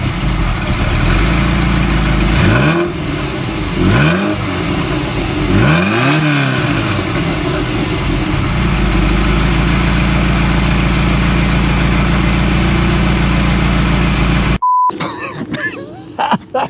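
A Ferrari 308 GTSi with four exhaust outlets idles with a steady low rumble, then is blipped through several sharp revs that rise and fall, settling back to a loud, even idle before cutting off abruptly.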